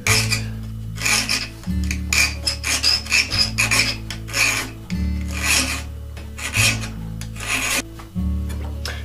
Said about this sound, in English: And then I'm going to use my standard flat file.